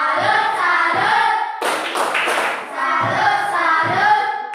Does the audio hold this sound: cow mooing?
no